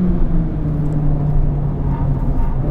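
Supercharger of a 212-horsepower Toyota Yaris GRMN on a race track, a steady loud mechanical whir with a sustained tonal drone over engine rumble, continuous throughout without speech.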